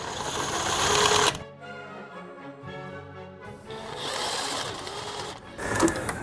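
An impact gun rattles while loosening cylinder head bolts on an Audi engine. A loud, close burst of whirring is followed by a brief lull, then the motor spins again in longer runs.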